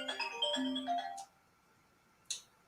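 A phone rings with an incoming call: a bright, tonal ringtone melody plays for about a second, close and clear, then cuts off into near silence with one short click later.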